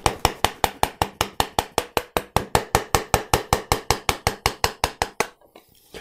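A chisel is struck rhythmically with a mallet while cutting the escapement of a low-angle jointer hand plane, giving about two dozen sharp, evenly spaced knocks close by, then stopping.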